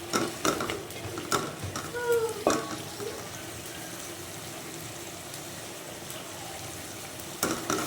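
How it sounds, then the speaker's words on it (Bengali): Tilapia curry spices with turmeric and chili powder being stir-fried in a pan, giving soft sizzling with scattered scraping and clinking strokes, busier near the start and end, no voices. "দিয়ে সুন্দর মতো আমি মশলাটাকে কষিয়ে নিব"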